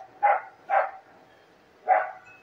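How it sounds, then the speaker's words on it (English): Dogs bark outside in three separate sharp outbursts, two close together and a third after a short pause, at moderate loudness with no talk over them. "Well, dogs are going bonkers out there."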